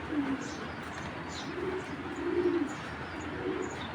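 Racer pigeons in a loft coo in low, throaty bursts, four separate calls spaced about a second apart, close and moderately quiet over a light background hum.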